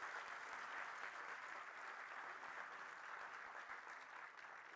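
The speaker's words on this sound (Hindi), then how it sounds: "जोर से ताली बजाइए।" Sustained applause from an audience at a university convocation ceremony, a dense, steady clatter of clapping filling the hall for the full stretch without talk.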